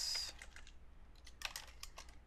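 Computer keyboard typing while writing up ANOVA results, a quiet irregular patter of light key clicks in short bursts, close and faint with no talking.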